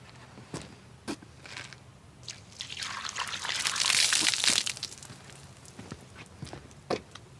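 Water is poured over a heavy-duty custom oak workshop bench, a soft splashing pour swelling in the middle and fading, surrounded by scattered knocks and taps.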